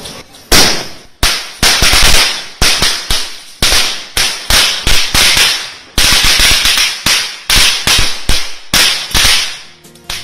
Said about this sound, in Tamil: சிறுவர்கள் முதல் பெரியவர்கள் வரை பாதுகாப்பாக பட்டாசு வெடித்து கொண்டாடினர்